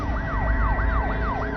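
An ambulance siren wails close and loud in a steady, repeating rising-and-falling sweep over a constant low traffic rumble.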